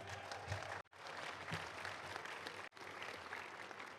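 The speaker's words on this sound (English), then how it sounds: "Everybody give a round of applause for Rex Nelson, everyone" Audience at a touchdown club luncheon in Little Rock applauding steadily, a faint, distant wash of many hands clapping with two brief dropouts, no speech over it.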